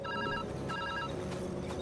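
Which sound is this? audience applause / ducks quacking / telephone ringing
telephone ringing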